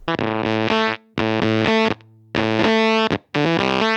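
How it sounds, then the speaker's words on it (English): Heavily gated, sputtering germanium fuzz guitar from an EQD Barrows pedal plays chopped chords in bursts, cutting abruptly to silence between phrases, loud and close. "turn it down into gated fuzzing, ripping Velcro sounds, and then all the way into spitty, splatty, bias-starved germanium fuzz"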